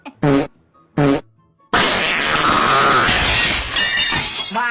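A loud, long, sputtering fart bursts out and runs for several seconds, raspy and crackling, right after two short bursts of voice.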